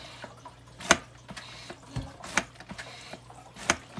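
The plunger of a Fluval 407 canister filter is pumped to prime it, with gentle trickling water and three sharp splashy pulses spaced about a second and a half apart, quiet and close.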